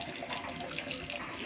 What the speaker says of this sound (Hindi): इतना सीधा गंदा पानी सारा में निकल के गिराना पड़ेगा।